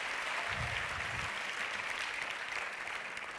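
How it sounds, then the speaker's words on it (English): Audience applause at the LUX Audience Award ceremony, a soft, distant wash of clapping from a large hall, steady and then slowly fading. "A big round of applause, everyone, for Mrs. Nelarin."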